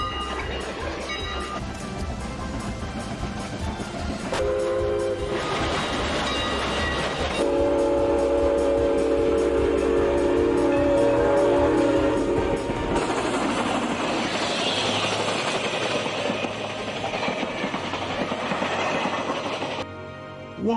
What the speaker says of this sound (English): Ginty and Pug whistled cheerfully as they puffed through the station.